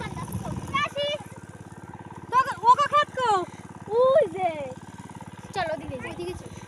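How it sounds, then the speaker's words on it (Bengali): A motor pump waters a riverside char field planted with watermelon, its engine chugging steadily at close range beneath ongoing voices. "এই যে এখানে জল দিচ্ছে মোটর দিয়ে"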